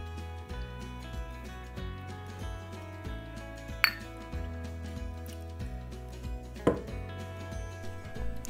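Soft almond tofu scooped from a dish with a ladle into bowls: quiet, close scraping and soft knocks with two sharp clinks of metal against ceramic, no talk, over a faint background hum.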